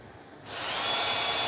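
A power driver fitted with a flathead screwdriver bit spins up to loosen stuck screws on a big breaker being scrapped, a steady close whirring buzz that rises after a brief quieter start.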